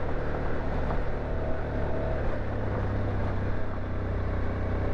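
Suzuki V-Strom motorcycle engine held at high revs in a low gear on a gravel road, a steady, loud droning hum mixed with wind rush, continuous throughout with no talk.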